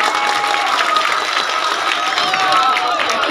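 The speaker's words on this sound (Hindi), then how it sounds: "तालियाँ बजा कर मुझे इजाज़त दीजिए।" Audience clapping at a ghazal recital by Majid Deobandi in Mau, a dense steady patter of many hands filling the hall, with a faint murmur of the crowd beneath.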